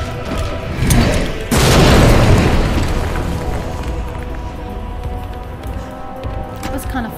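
A grenade blast in Resident Evil 2 booms loudly, followed by a rumbling tail that fades over several seconds amid game sounds, with a voice present.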